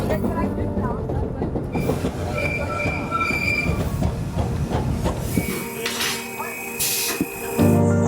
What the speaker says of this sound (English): one of the best ways to do it is taking the tram